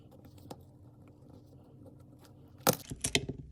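The back of a Ford key fob is pried open with a finger, giving faint fiddling and a quick burst of sharp plastic clicks and snaps near the end, close up.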